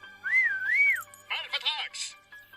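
A person whistles a bright, rising and falling tune toward a limited-edition keychain, which answers with chirpy electronic warbling sounds, all short and close by.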